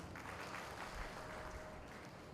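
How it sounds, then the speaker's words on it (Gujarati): An audience at a district forest festival celebration in Gandhinagar claps, a soft, distant patter of applause that stays steady throughout. "આવા સેવાભાવી લોકોને પણ તાળીઓથી આપણે વધારવું."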